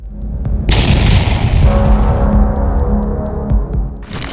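A large detonation from a strike on a Russian BM-21 Grad rocket launcher, a deep booming blast followed by a long rumbling roar, with faint regular ticking pulses throughout and a second burst at the end.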